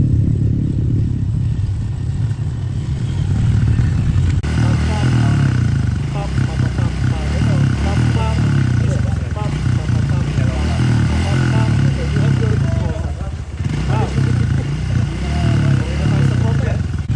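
Motorcycles ride at KRB MX Speedway training in Antipolo, Rizal, their loud, continuous engine roar swelling and easing as the bikes run close by, with speech blending in.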